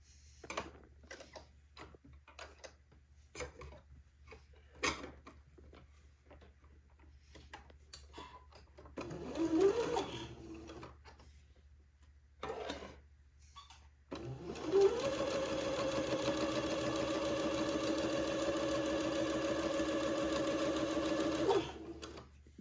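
A domestic sewing machine stitches a seam on a Christmas dress, starting with scattered clicks and short bursts, then running in a steady, fast, whirring hum for several seconds in a quiet room.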